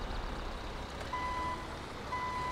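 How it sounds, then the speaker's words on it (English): A rollback tow truck in GTA 5 sounds two steady electronic reversing beeps, each held for about half a second, over a low idling engine rumble. "They're gonna hear the truck now."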